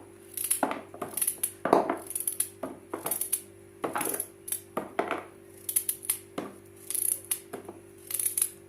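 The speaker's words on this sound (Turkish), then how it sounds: "Şimdi ben hepsini doğrayayım havuçlarımı." A knife slices carrots into rounds for pickles, giving a steady series of crisp, close cutting knocks on a board at a brisk, fairly regular rhythm with short pauses between strokes.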